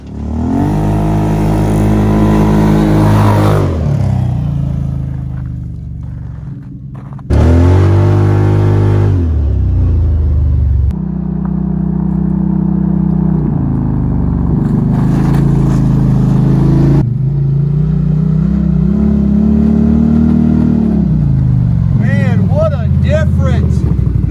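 A Can-Am Defender side-by-side revs and drives around a yard, its engine rising and falling through repeated accelerations and gear changes, loud and close, with brief cutoffs and a few voices at moments.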